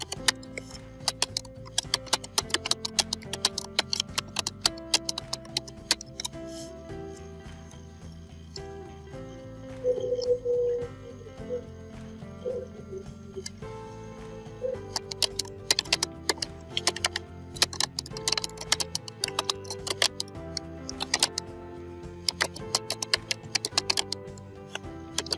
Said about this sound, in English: now you need to type here the text to convert.